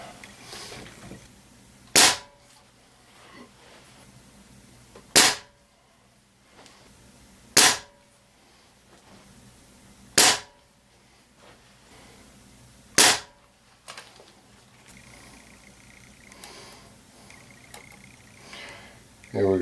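A Benjamin Trail NP XL1100 .22 caliber pellet rifle firing RWS Hobby pellets gives five sharp, loud cracks spaced a few seconds apart, with another at the very end, while a person speaks quietly between shots.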